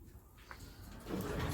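Greenhouse ventilation window being opened, a brief close scraping slide followed by a rising, rougher grinding sound as the panel moves.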